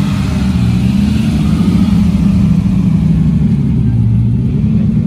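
A Lamborghini sports car's engine rumbles at a car gathering on Place Vauban: a loud, close, steady low growl that holds through the clip without clear rev peaks.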